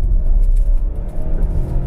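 A 2022 Ford Explorer Limited with the 2.3L EcoBoost turbo engine and AWD accelerating, a steady deep engine rumble and road drone heard close from inside the cabin.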